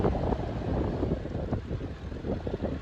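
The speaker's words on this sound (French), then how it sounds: "c'est vraiment le vent pour le coup qui me tabasse la vitesse" Strong wind buffets a cyclist's microphone, a steady low rumble with gusty surges that rise and fall, loud and close throughout, with no voices.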